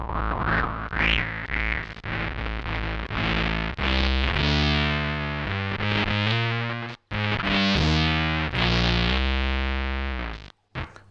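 A bass run through a Boss SYB-3 bass synthesizer pedal with the dry signal off plays a series of notes with a buzzy, distorted synth tone, some short and choppy, others sustained and sweeping, loud and alone.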